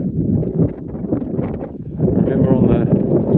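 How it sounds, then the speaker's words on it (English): Wind gusts across an exposed slate quarry in the Brisbane Ranges, Victoria, Australia, a steady rushing buffet on the microphone that swells stronger in the second half, with a voice talking underneath. "A little bit of wind around"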